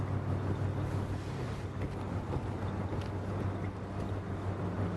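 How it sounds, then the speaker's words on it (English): A constantly running fan in the video game A Way Out gives off a steady low whooshing hum, continuous and even throughout with no pauses. "The sound of the fan is constantly playing, drawing subconscious attention to it."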